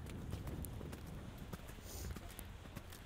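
A horse's hooves clip-clop in a steady walking rhythm during a riding lesson, with a coach's voice talking over the hoofbeats.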